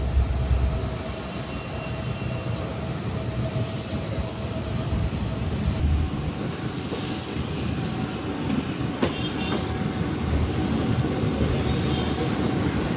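A diesel locomotive hauls a passenger train between Bengaluru and Hosapete, a loud, continuous roar and rumble of engine and wheels heard for the whole stretch, with a faint high whine and one brief sharp click partway through.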